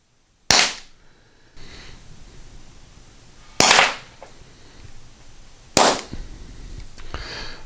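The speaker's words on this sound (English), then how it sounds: "We're going to try 4 more rounds and see if we can get some kind of precise reading on this thing" Three sharp, loud shots from an Umarex T4E HDP Compact .50 caliber PepperBall launcher, spaced a few seconds apart, each a sudden crack with a short decay over quiet background.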